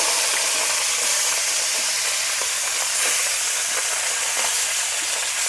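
Fish fry in hot mustard oil over an outdoor fire on a sandbar of the Padma River, giving off a loud, steady sizzle and hiss with small crackles and spits scattered through it.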